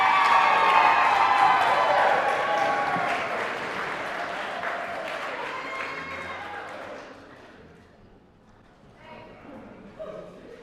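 Wedding guests applaud and cheer loudly for the maid of honor at a toast, with dense clapping and whoops that slowly fade over about eight seconds into scattered murmurs.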